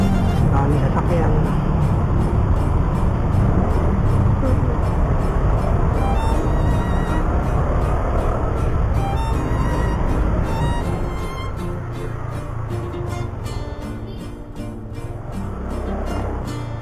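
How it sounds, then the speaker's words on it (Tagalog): Busy road traffic with many vehicles heard from a motorcycle taxi, a dense, steady wash of engines and tire noise passing close by that eases slightly toward the end, with some talk over it. "Dami sasakyan."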